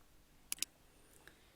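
A computer mouse gives two sharp, close clicks in quick succession and then a fainter third click, all against a quiet background.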